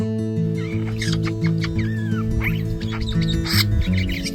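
A threatened scrub jay sings a series of short, varied chirps and squeaky whistles over steady background music.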